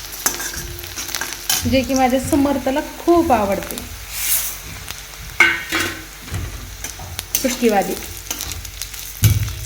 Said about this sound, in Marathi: संध्याकाळच्या जेवणात बनत आहे मस्त लोखंडाच्या कढईत मसुरीची डाळ